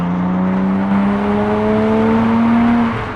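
Rebuilt 2006 Porsche Cayman S with a 3.9 liter engine driven on the road, a close, steady engine note that rises smoothly in pitch as it pulls, then eases off near the end.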